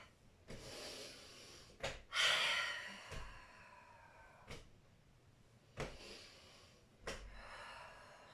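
Deep, forceful breaths during a flowing hip exercise movement, several loud exhales and inhales spaced a second or two apart, close and alone without talk.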